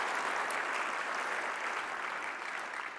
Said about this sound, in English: So can I just get a clap also for the APPs?